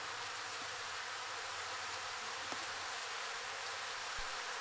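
A dense, steady buzzing hum of many bees around a hive, some showing attack behavior, continuous and close, with a couple of faint clicks and no talking.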